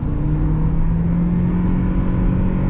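2023 Toyota Prius facelift accelerating hard in sport mode toward redline, heard from inside the cabin as a loud, steady droning engine whine rising slightly in pitch, with wind and road roar beneath and no talking.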